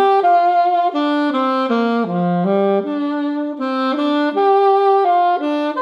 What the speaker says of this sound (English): this relaxing music usually uses pentatonic scales